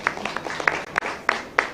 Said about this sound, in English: Give them a clap for